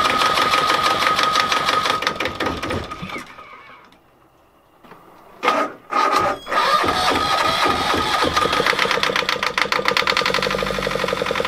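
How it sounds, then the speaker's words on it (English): A boat's engine running while not mounted to the boat, a loud rapid mechanical chatter that drops away to near silence midway, then returns in a few sharp bursts before settling into its steady clatter again. "The engine runs, but it's not really attached to the boat"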